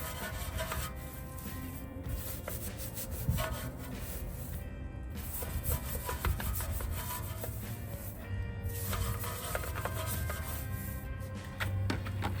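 A brush scrubs hard at a car wheel coated in tire cleaner, giving dense, fast bristle scratching that rasps close and continuously with no pauses.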